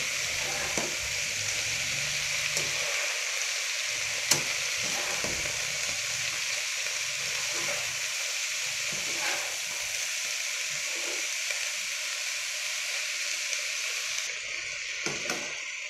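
Shredded cabbage fries in a pan with a steady, close, broadband sizzle that runs the whole time, while a utensil stirs it with scattered scrapes and knocks.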